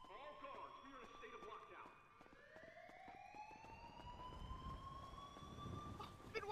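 Prison lockdown sirens wail in a video game, a faint electronic tone that rises and then holds, with speech and scattered game noises beneath it.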